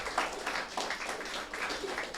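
A church congregation claps for the Lord during a Sunday general service, a sustained, moderately loud burst of many hands that continues without pause.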